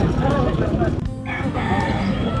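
Roosters crow and hens cluck close by at a busy, noisy poultry market in Angeles City, Pampanga, several birds calling over a steady crowd din with voices mixed in.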